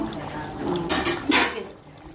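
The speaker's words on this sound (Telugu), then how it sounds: "ఒకసారి మూత తీసుకొని చూసుకుందాము." A lid comes off a pot of simmering Andhra-style goat mutton curry with two quick metallic clatters close by, over a low kitchen background and some talk.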